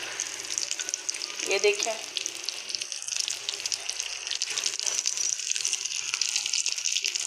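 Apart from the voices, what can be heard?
cabbage tikki frying in oil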